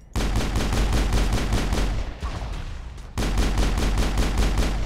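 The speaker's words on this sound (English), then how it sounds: "I'm shooting at something that's already dead." Rapid automatic gunfire from a Mass Effect firefight, loud sustained bursts of shots with a short dip in intensity midway before the firing resumes at full force.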